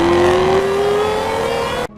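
A Shelby Super Snake with a supercharged 5-liter Coyote V8 and 825 horsepower roars loudly up close, its engine note rising steadily in pitch as it revs for about two seconds before cutting off abruptly.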